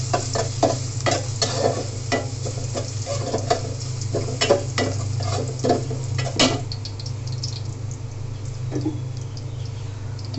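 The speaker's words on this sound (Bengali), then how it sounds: "এরপরে একটু রসুন বাটা দিয়ে দিচ্ছি।" Cumin, panch phoron and garlic paste fry in hot oil for lentil dal, a loud continuous sizzle with rapid ticking pops and spatula clicks, settling to a quieter hiss toward the end.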